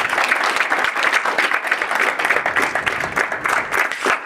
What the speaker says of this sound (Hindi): आप सब बुलंद तालियों के साथ इस राउंड का